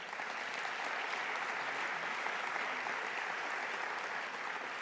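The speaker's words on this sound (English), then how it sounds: "Please give a moment of applause for them." An audience at a conference closing ceremony with service and merit awards applauds continuously, a steady, full roomful of clapping that holds at even loudness throughout.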